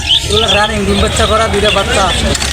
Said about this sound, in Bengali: আর এখানে এক জোড়া ঘুঘু দেখতে পাচ্ছি